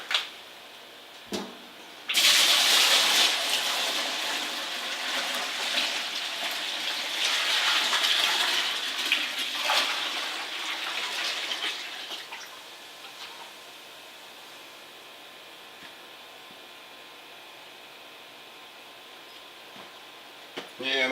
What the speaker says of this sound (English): I'm going to pour this in our tank right now, and we'll see how full it will get it.